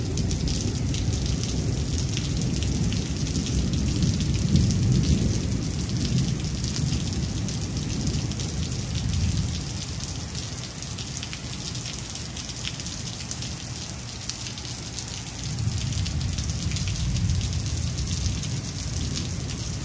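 Steady heavy rain pattering on surfaces with low thunder rumbling in the background, swelling and easing over a long continuous stretch with no voices.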